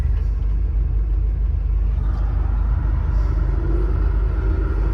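A ramp truck engine with a blown gasket on one exhaust manifold rumbles low and steady. The sound is continuous and close, with a slight rise partway through and no speech.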